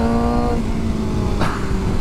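BMW M1000R naked superbike accelerating at part throttle, a close, loud revving engine note that climbs then shifts briefly, heard alone.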